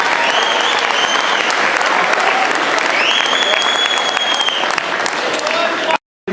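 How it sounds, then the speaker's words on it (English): A crowd claps steadily and loudly for several seconds, dense and sustained, then cuts off abruptly. "Give them a round of applause."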